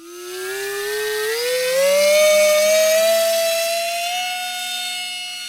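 The motor and propeller of an Esky Eyas RC airplane give a loud, continuous, high-pitched whine that rises steadily in pitch and swells, then eases slightly, with no one talking.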